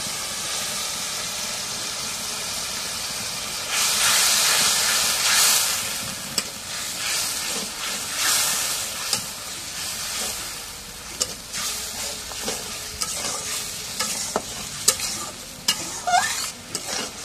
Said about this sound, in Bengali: এখন মশলাটা কষানো হয়ে গেছে